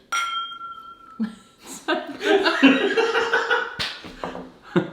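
Two glasses clink in a whiskey toast with a bright, ringing tone that decays slowly, followed by people chatting and chuckling nearby.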